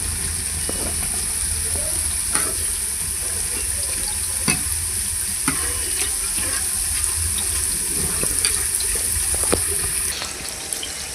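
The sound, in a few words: puris frying in oil and being flipped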